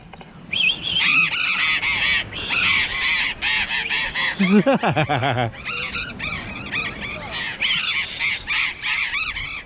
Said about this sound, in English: Whole bunch of parrots just everywhere.